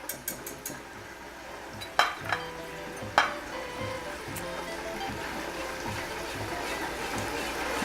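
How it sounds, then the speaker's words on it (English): Rum and butter simmer in a pan with a steady, soft sizzle and bubbling, punctuated by a few close clinks and scrapes of a utensil against the pan. "so you just got to keep letting that simmer a little bit"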